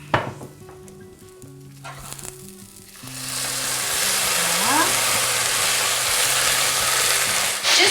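Champagne poured into a hot pan over softened onion sizzles loudly and steadily, a dense bright hiss building up and holding through to the end after a few quieter clinks and stirring noises.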